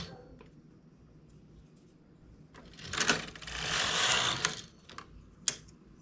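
A knitting machine carriage is pushed across a single row while knitting a sleeve, giving a brief close whirring, clattering pass in the middle of an otherwise quiet stretch.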